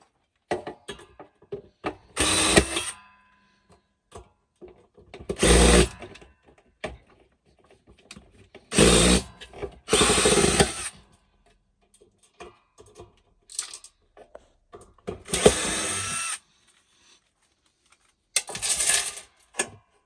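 A power drill backs screws out of a solar inverter's case in short separate bursts, each a few seconds long, with quiet pauses and small clicks of handling between them.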